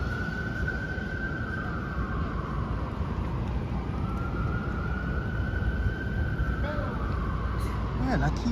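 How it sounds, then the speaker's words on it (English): An emergency vehicle siren wails on a New York City street along Broadway, its rising and falling tone sustained over steady traffic and street noise, with a second siren whoop near the end. "Man, I keep hearing this damn siren,"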